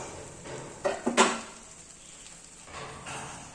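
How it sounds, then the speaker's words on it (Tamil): A spoon scrapes and clinks against a pan while a khoya and milk powder sweet mixture with mixed nuts is stirred over low flame, with a few sharp knocks early and then soft scraping. "கொஞ்சம் கொஞ்சமாக நல்லா கிளறி விட்டுக்கலாம்."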